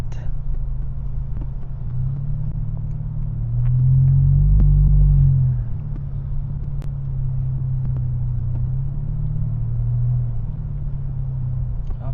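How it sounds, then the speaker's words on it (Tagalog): Road traffic idles at a stoplight on a busy street in Nova, a continuous low rumble of engines heard from inside a car, swelling briefly as a nearby vehicle revs. "Traffic sa stoplight."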